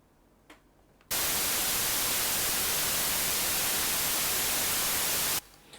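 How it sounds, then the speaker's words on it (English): White noise from the Logic Pro test oscillator bursts in abruptly after a quiet second, holds as a loud, flat, unchanging hiss for about four seconds, then cuts off sharply back to near silence. "I selected white noise."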